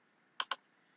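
Two quick, crisp clicks in close succession from a computer mouse double-click, close and isolated against a quiet background.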